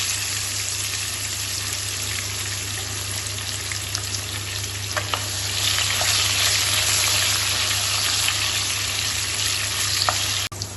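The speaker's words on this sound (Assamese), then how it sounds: "মই পটল আৰু আলু ফ্ৰাই কৰা হৈ গৈছে।" Pointed gourd and potato pieces fry in hot oil with a continuous, dense sizzle that grows slightly louder midway, with occasional faint clinks.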